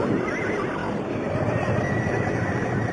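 Horses neighing and whinnying amid a dense, steady wash of background noise, with hints of hooves, from a 1963 film about white stallions; no clear talk over it.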